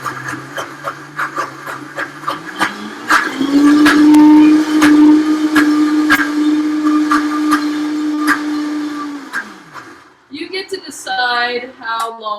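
A food processor blends pesto on low speed, its motor humming up steadily for several seconds with rhythmic clicks, then winding down before someone starts talking.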